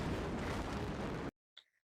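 Building demolition blast: a loud, dense broadband roar of the explosion running continuously for over a second, then cutting off abruptly, followed by a brief faint crackle in the silence.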